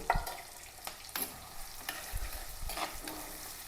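Green chili, crushed garlic and ginger sauté in a pan with a small onion and salt, giving a steady soft sizzle broken by repeated spatula scrapes and stirring strokes, close up with no talking.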